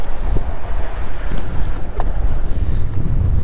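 Wind buffeting the microphone with waves slapping around a small fishing boat on open water, a loud constant gusty roar with a few soft splashes and knocks.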